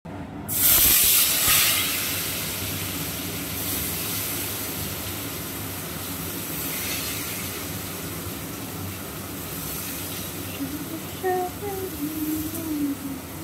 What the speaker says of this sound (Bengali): এগুলো ফোড়নে দিয়ে দিলাম। একটু ভাজা হয়ে যাক